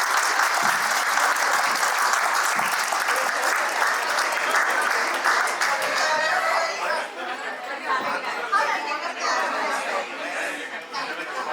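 An alumni meet audience breaks into a loud round of applause, dense clapping that fills the hall for several seconds before thinning out, mixed with chatter and a few scattered laughs.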